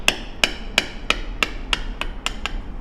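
A mallet strikes a leather stamping tool in eight sharp, evenly spaced knocks, close and crisp, each ringing briefly as the tool is walked across the leather.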